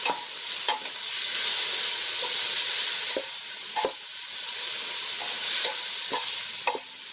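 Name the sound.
sautéing garlic, onions, tomatoes and ginger in a pan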